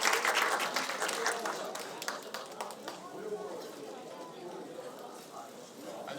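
A crowd at a memorial academic concert applauds with dense clapping that gradually thins and fades, with voices murmuring underneath.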